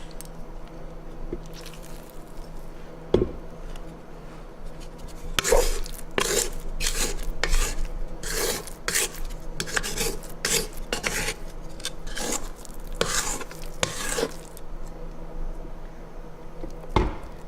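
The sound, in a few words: scraping mixture off the sides of the mixer bowl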